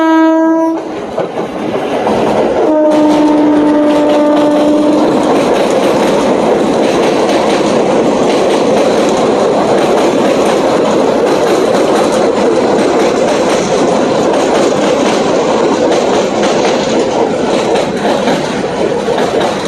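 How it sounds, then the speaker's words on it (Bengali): A train passes Beliaghata Road station, opening with a loud horn blast and then a steady, close rolling rumble and clatter of wagons that continues to the end. "এদিক দিয়ে ট্রেনও আসছে।"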